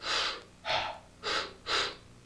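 Four sharp, breathy harmonica notes in quick succession, three short draws and a blow, played alone with brief gaps between them.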